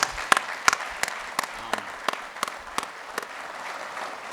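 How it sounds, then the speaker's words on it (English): Audience applause at a fire and rescue trainee graduation ceremony, heard as a faint, thin patter with sharper claps standing out at a fairly steady rhythm. "that deserves a clap"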